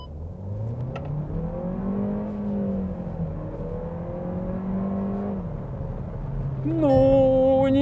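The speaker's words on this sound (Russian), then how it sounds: "Четырехцилиндровый двигатель, но, блин, он, во-первых, не шумный." A Skoda Karoq's 1.5-litre four-cylinder engine accelerating, a smooth rising hum through several gear changes heard from inside the cabin, ending in a sharper higher whine.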